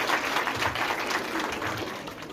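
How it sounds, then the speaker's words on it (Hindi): An audience at an outreach programme event bursts into loud, dense applause, the clapping sustained throughout. "इनके लिए जोरदार ताली।"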